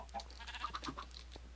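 A Minecraft sheep gives a short series of quick, faint bleats, close and alone, with no talk over it.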